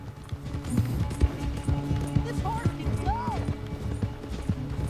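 Pony hooves clip-clopping at a gallop in the video game Red Dead Redemption 2, rapid rhythmic hoofbeats close by, with game voices talking over them and a brief whinny-like tone.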